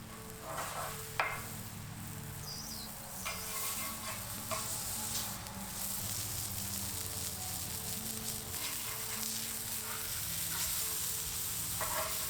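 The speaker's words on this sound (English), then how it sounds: "Burgers are simple on the Sear Plate because the fat in the burger will render out and keep it from sticking." Burgers sizzle on a Breeo X Series Sear Plate over a low wood fire, a steady close crackle and hiss with scattered sharp pops and spatula scrapes running throughout.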